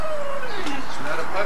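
A young dog gives a high, drawn-out whining howl that slides downward, close and fairly loud, lasting just over a second.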